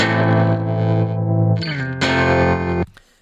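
Guitar chord region played back in Logic Pro X, loud distorted and effected guitar chords ringing out, one sustained chord then a change and a restruck chord before an abrupt stop, with no voice over it.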